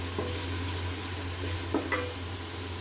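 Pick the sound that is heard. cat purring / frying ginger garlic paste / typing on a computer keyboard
frying ginger garlic paste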